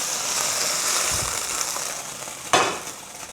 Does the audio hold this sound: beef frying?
yes